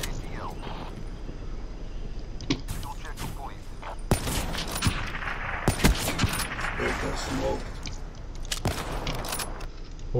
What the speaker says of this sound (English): Oh, wow, I shot it through a wall.